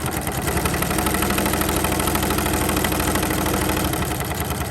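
A sewing machine runs a 1/8-inch top stitch along a fabric edge while sewing a placket, giving a steady, fast motor whir with a rapid needle rhythm that continues without a break and without talk.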